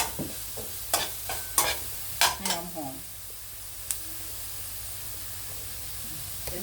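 Garlic and shallots stir-fried in a little oil, with several sharp scraping stirs and bursts of sizzling close by in the first half, then a quieter steady frying hiss.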